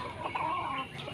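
Golden Boy sweater gamefowl rooster of the AEJ line giving a brief, soft cluck, close by and fairly quiet, with faint background murmur.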